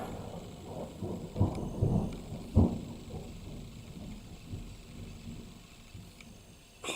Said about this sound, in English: The hailstone just stopped for a huge clap of thunder.